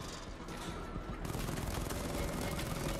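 Rapid gunfire from the tank in Batman: Arkham Knight, a dense fusillade of shots that grows louder and busier after the first second and keeps firing steadily to the end.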